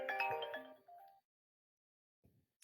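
A phone ringtone goes off during a tabletop card game night, a bright melodic jingle of quick notes followed by a held tone, then silence and a faint soft noise.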